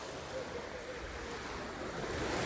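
Calm waves at Tenacatita Beach in Jalisco, Mexico, a sheltered bay with mountains and large rocks, heard as a soft continuous wash of surf mixed with light wind noise, faint and steady with no talking.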